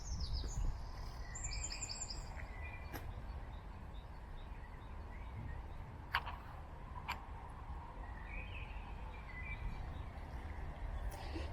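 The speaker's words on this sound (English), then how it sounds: "Have you heard the birds?" Birds sing in a cemetery, with scattered chirps and short warbling phrases, some near and some distant, over a steady hiss of outdoor background noise and a few faint ticks.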